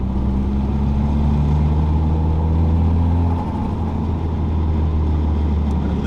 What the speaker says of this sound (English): Fourth gear, there you can hear the noise.